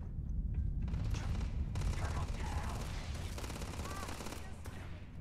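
Steady, dense gunfire in the space game Starfield, a continuous rattle of shots and booms under a loud game soundscape, with a voice faintly present.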